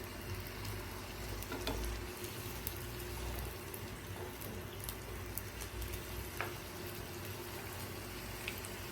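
Egg puff frying in a pan after being flipped, a soft steady sizzle with faint crackles running throughout, moderately quiet and close, with no talking.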